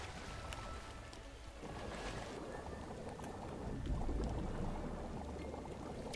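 Water flowing steadily in the Lego Worlds video game, a faint, continuous rushing wash that swells slightly midway, with a thin tone and light game clicks above it.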